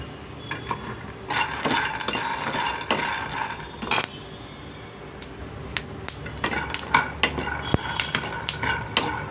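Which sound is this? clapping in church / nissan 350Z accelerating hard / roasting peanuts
roasting peanuts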